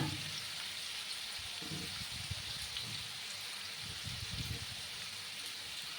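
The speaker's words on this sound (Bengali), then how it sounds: "আরো 2 মিনিটের মতো আমি কুমড়ো আর আলুগুলোকে একটু ভেজে নিচ্ছি" Pumpkin and potato pieces fry in a pan for a vegetarian curry, giving a steady soft sizzle with faint crackles and a few low stirring knocks, with no voices.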